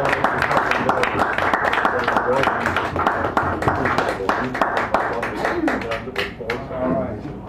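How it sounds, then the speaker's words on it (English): Audience at a poetry reading at Sacred Grounds Cafe in San Francisco applauds a poet coming up, a steady patter of scattered hand claps from a small crowd mixed with voices and murmured talk throughout. "Give him a nice round of applause"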